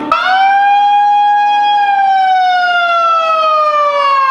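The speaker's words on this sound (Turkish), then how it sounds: "Sirenler çaldığında hayat durdu." A loud, sustained siren wails on one long tone that slowly bends downward, strong and close, with no other sounds around it, during the November 10 Atatürk remembrance silence at Dolmabahçe, Istanbul.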